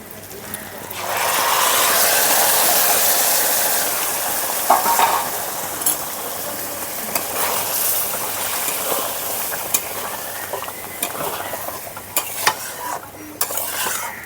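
Boiled golden moong dal added to a spicy fish head masala of katla carp and stirred in a pan, a close, steady sizzle and scraping stir, loud at first and then settling under occasional utensil clicks.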